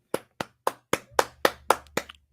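Eight sharp hand claps in a quick, slightly uneven rhythm, close and clear against a quiet background, with no voices.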